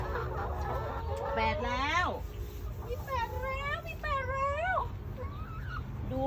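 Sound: chickens clucking in a chicken coop

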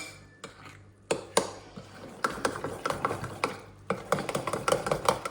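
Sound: stirring batter in a bowl

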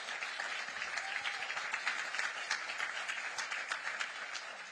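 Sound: campaign rally audience applause

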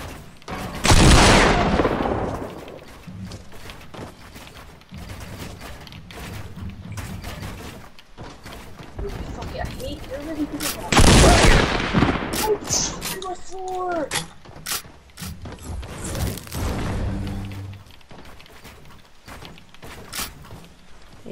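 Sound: double-barrel shotgun gunfire in a video game

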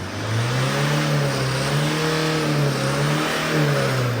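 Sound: Tata car engine revving, running rough

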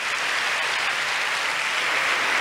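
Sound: congregation applause at a church women's congress

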